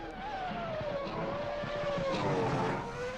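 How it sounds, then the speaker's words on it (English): A high-pitched Formula racing car engine in the video game Assetto Corsa screams nearby, its whine sliding down and back up as it shifts gears. "I do love how these Formula cars sound."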